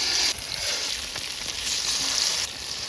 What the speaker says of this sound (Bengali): এখন একটা একটা বেসনে শুকামু আর ভাজিলাম।